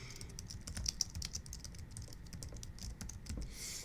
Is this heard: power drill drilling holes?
no